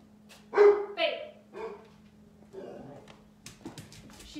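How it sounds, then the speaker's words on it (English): A dog at a house window barks at neighboring dogs, a few loud close yips and barks with whimpering between, while someone talks over and around them. "She's going to stand at the window and bark at the neighbor dogs."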